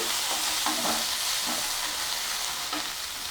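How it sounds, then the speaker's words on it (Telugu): Mint sprigs, coriander and spices lightly frying in a pan for a masala tindora (dondakaya) curry, giving a steady close sizzle with a few soft stirring scrapes and no talk. "ఒక 4 రెమ్మల పుదీనా ఇది కూడా వేసుకొని అన్నీ లైట్గా ఫ్రై చేసుకోవాలండి"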